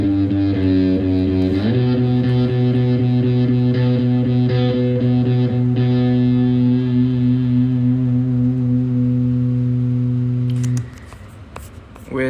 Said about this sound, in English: It's got more drive and distortion